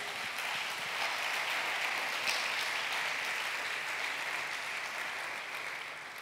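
A church congregation applauding, a sustained wash of many hands clapping at moderate distance, steady throughout with a slight fade at the end.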